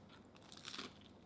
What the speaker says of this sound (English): All right, amazing crunch.